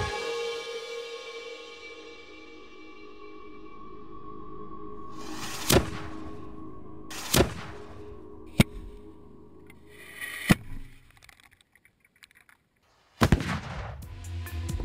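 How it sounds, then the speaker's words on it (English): A dummy mortar round fired during weapons testing, a series of sharp, isolated booming reports spaced a couple of seconds apart, loud against a quiet outdoor background. "After firing the dummy mortar round, Ian and his crew set up a simulated charge"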